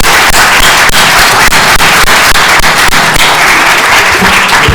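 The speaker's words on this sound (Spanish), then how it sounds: "te vamos a despedir con un fuerte aplauso" Loud, dense audience applause closing a conference talk, a continuous burst of many hands clapping close by.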